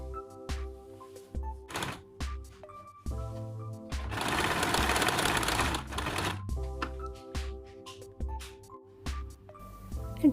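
Sewing machine stitching the elastic casing of a child's frock, with rhythmic mechanical clicks and short runs around a steady louder burst of stitching in the middle, close and clear, no talking.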